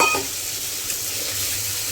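Pointed gourd pieces drop into a pan of hot spice paste and oil, setting off a bright, loud sizzle that starts abruptly and then settles into a steady frying hiss close by.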